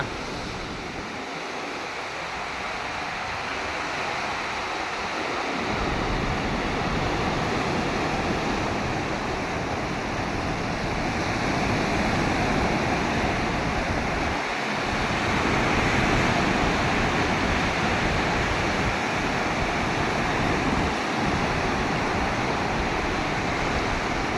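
Sea waves wash steadily onto the shore in a continuous roaring surf, loud and close, with wind buffeting the microphone and a few deeper surges standing out along the way; no voices are heard.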